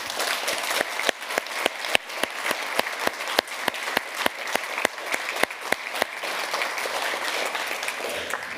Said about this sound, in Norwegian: Og jeg synes vi skal gi dem en stor applaus I dag.